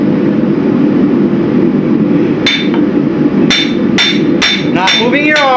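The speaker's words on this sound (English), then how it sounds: "Not moving your arm, just bounce it off the anvil." An 8-ounce hammer is bounced off an anvil during knife forging: about six bright, ringing metallic strikes that come faster toward the end, over a steady loud roar.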